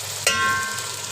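A spoonful of ginger garlic paste drops into onions frying in a pan for chicken white karahi, giving a sudden loud hiss that settles into a steady close sizzle.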